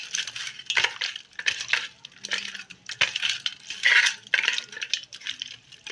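Rohu fish pieces are rubbed by hand with salt and turmeric, giving soft, wet squelching and rhythmic squishing bursts close up, fairly quiet and with no talk.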